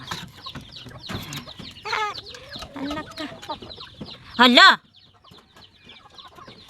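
Chickens clucking and a hen squawking loudly in a farmyard, with scattered short calls around a sharp burst of cackling, while people speak nearby.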